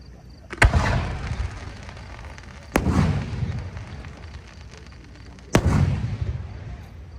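A 2-break 5-inch cylinder firework shell at a pyrotechnics competition bursting into red stars and then gold strobe stars: three sharp, booming reports a couple of seconds apart, each trailing into a crackling, rumbling decay.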